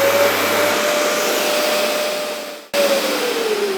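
A Festool ETS EC 150 random orbital sander runs with its extraction hose connected, a loud steady whine close by that winds down and cuts out briefly before starting again at full speed.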